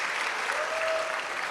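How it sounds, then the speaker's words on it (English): A brief burst of steady audience applause for honorees at a university honors convocation, dense even clapping from a crowd with no talking. "Give yourselves a round of applause again."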